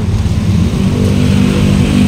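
A motor tricycle passes along a road with a loud, steady engine drone, close by and without any talk over it.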